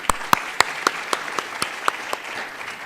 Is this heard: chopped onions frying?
no